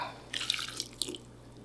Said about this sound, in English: I'm gonna add enough water to just about cover it.